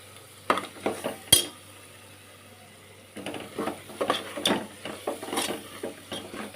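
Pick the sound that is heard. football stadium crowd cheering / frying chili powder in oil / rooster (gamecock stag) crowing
frying chili powder in oil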